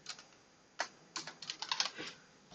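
Quiet, irregular clicking of keys on a computer keyboard, bursts of taps close by with short pauses between, no talking.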